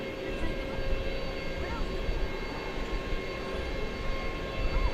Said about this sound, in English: It's going to be flight 7859, a 767, headed off to the World Port in Louisville.